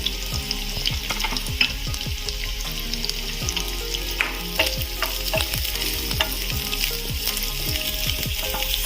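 Green chilies, garlic and ginger sizzle steadily in a pan with onions for soya chunks manchurian, with a constant frying hiss under frequent scraping strokes of a spoon as the mix is stirred, close and fairly loud.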